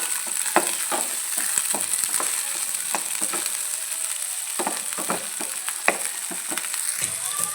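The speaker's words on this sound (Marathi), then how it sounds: "पावटा खूप छान असं भाजून घ्यायचं आहे आपल्याला थोडा पावटा भाजून घ्यायचा आहे आपल्याला इथे बघा" Field beans (pavta) dry-roasting in a kadhai make a soft, steady crackle, with frequent light scraping stirs and rattles throughout at close range.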